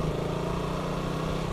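A motorcycle engine hums steadily on a road stretch as a first-time rider shifts gears, a close, continuous low drone holding even with no clear rev change and no talking.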